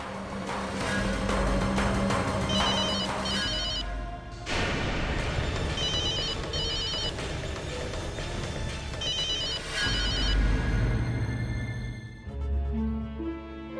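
A telephone rings unanswered in three repeated bursts of trilling double rings, heard over swelling dramatic background music with no talking.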